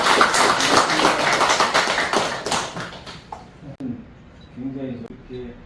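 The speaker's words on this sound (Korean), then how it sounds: "우리 선생님 박수로 해주겠습니다" A crowd applauds a visiting artist at her studio, with dense clapping that thins out and stops partway through before people start talking.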